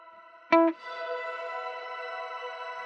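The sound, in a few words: shimmer reverb effect with pitch shifting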